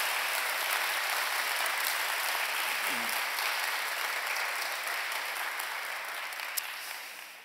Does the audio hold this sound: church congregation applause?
yes